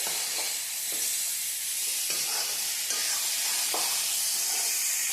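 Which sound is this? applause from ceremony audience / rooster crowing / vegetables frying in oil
vegetables frying in oil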